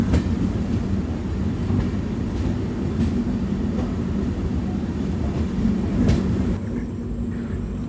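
A Mumbai–Kochuveli Garib Rath Express passenger train rolls along the rails through a sharp curve, a loud, continuous rumble with faint rhythmic clicks that eases slightly near the end.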